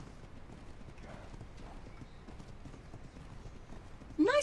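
Faint rhythmic hoof clip-clops in the video game ARK (Maewing Poach Gamma mission) under a low ambient bed, ending with a louder horse whinny right at the close.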